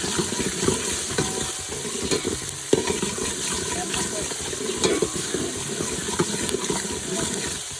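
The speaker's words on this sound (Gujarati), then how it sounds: "તેલમાં ડુંગળી પકાવી નાખવાનું છે લીમડો. હવે હલાવવાનું." Onions and curry leaves sizzle steadily in hot oil while a spoon stirs and scrapes the pan, a close, continuous frying hiss with irregular clinks and no talk.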